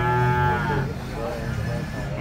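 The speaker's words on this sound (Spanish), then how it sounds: "nuestra bonita y hermosa vaca sarda que estamos en este momento mirando." A Sarda dairy cow at a livestock market gives a long, loud, close moo that drifts lower partway through, with no talking over it.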